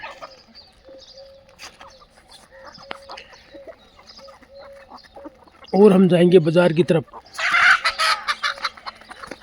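Desi chickens on a free-range poultry farm cluck softly and steadily, with someone briefly speaking over them before a louder, busier burst of clucking near the end.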